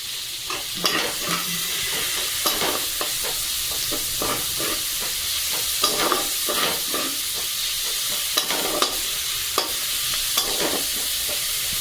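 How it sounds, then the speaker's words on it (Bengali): Tomato and fish curry with bitter gourd frying in a pan, a continuous sizzle punctuated by repeated scraping and clinking strokes of a spatula as it is stirred, close and alone. "ভালো করে আমি নেড়ে ছেড়ে নেবো"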